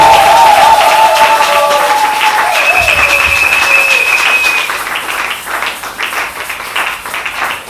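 A congregation at a French-speaking church conference gives loud, sustained applause, with high cheering or ululating tones rising above the clapping in the first half before the applause continues more raggedly.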